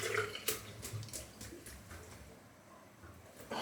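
A shaving brush being rinsed clean of Ethos shaving soap under a running tap, with close, intermittent splashing and water spatter in short bursts over a steady faint background.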